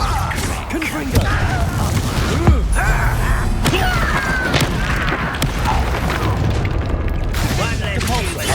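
Confringo, a fiery blasting spell, cast mid-duel in Hogwarts Legacy, landing as a heavy boom and crackle inside a steady din of clanking, creaking battle effects that continues throughout the scene.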